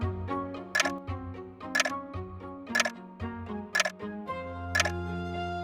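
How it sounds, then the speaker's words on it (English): An ancient hallway clock gives a steady, dull tick about once a second, close and fairly quiet, with the beats standing out over a soft musical background and no talk. "evenings spent listening to the dull tick of the ancient clock in the hallway"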